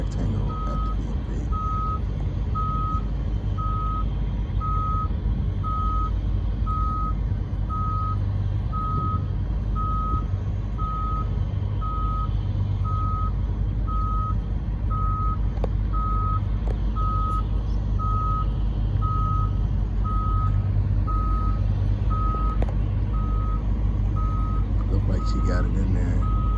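A truck backs into an alley dock, its engine rumbling low and constant while a reversing alarm beeps in an even, repeating rhythm throughout.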